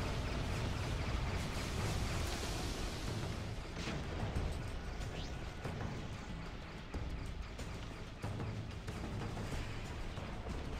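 Dense, continuous rumble of mortar explosions in a video game battle, heavy low-end booms overlapping with bursts and crackles, loud and sustained with no clear gaps.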